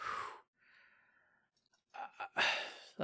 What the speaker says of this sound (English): Sorry, I was yawning.